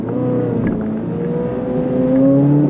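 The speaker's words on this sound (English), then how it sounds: "The way this thing starts, man, it's like, it's so incredible" A 2024 Corvette Z06 engine running just after starting, a loud close mechanical drone with a rising, slightly wavering tone that builds toward the end, alone without talk.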